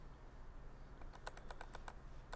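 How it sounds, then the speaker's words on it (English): Quiet keystrokes on a computer keyboard come in a quick irregular burst of about ten clicks over steady room hiss during a programming class. "I'm just going to start typing in get view."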